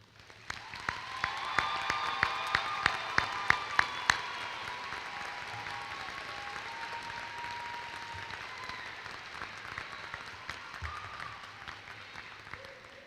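Graduation ceremony crowd at a College of Pharmacy and Health Sciences commencement applauds: a few scattered sharp claps build quickly into sustained, steady applause that continues evenly through the clip.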